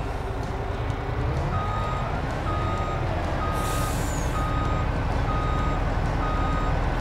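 A truck in Farming Simulator 22 backs up with a steady run of evenly spaced reversing beeps over a low engine rumble, plus a brief hiss near the middle, with no talk.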